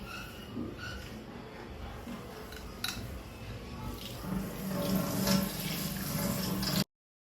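Poha rinsed under a running kitchen tap, a steady close hiss of flowing water with faint clinks of a vessel, no talk, ending abruptly.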